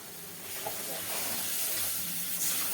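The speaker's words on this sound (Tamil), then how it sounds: "இப்போ வந்து கொஞ்சம் தண்ணி சேர்த்துக்கலாம்" Steady broadband sizzling hiss of water added to a hot pan while cooking fish curry, continuing evenly throughout without talk.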